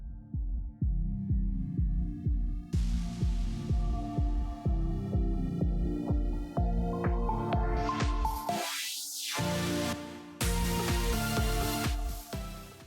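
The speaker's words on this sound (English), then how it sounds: "And then I'll go ahead and overlock the edges." A serger overlocking the edges of stretch fabric for a yoga outfit, fast mechanical stitching in repeated short bursts, close and fairly loud, no talk.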